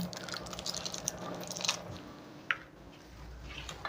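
Soya chunks are stirred by hand with chilli powder masala, giving soft, faint squishing and light crunchy clicks at close range, with one sharper tap midway.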